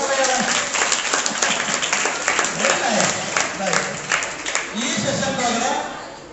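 A classroom audience at an exam-preparation workshop claps together in sustained, loud applause that swells and eases over several seconds, with a few chuckles mixed in.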